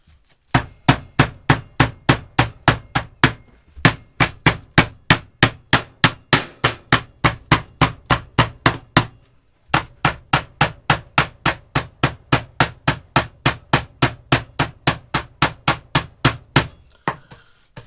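Steady, rhythmic thumps of a rolling pin pounding chicken thighs on a board aboard a narrowboat, dozens of even blows in two long runs with a brief pause between.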